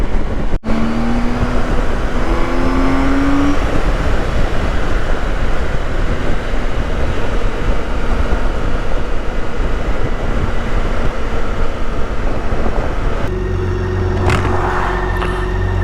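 A BMW K1600B motorcycle with a Stage 1 tune roars steadily and loudly up close, its intake and engine noise dense and continuous, with a brief higher whine near the start and a shift in tone near the end.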